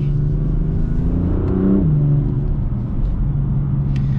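A BMW M4 Competition accelerates after its gearbox button is pressed, the engine note rising through a loud, close pull, then dropping sharply as the gear changes before settling into a steady rumble.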